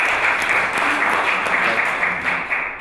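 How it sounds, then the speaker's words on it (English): An audience claps steadily for a few seconds, a dense, even roll of hand claps that stays strong throughout and thins slightly at the end. "Let's give him a round of applause for the effort."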